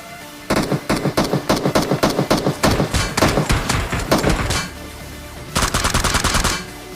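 Rapid bursts of automatic gunfire from a firefight against a bot in PUBG Mobile, loud repeated volleys for several seconds, a brief pause, then another close burst, with no talking.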